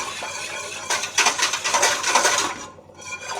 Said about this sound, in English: Now with the whisk, just give that a good stir.